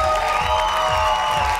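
Audience applause for the twelve finalists at an X-Factor Armenia gala show, a steady, loud wash of clapping that goes on without a break, with a sustained musical tone running beneath it.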